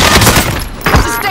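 Gunfire in a battle royale video game crackles in dense, rapid bursts, loud and close, with a short gap before more shots; a voice talks over part of it.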